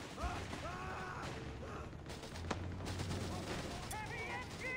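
Heavy machine gun fire rattles in a war video game, dense rapid bursts mixed with scattered battlefield noise and shouting, steady and continuous throughout.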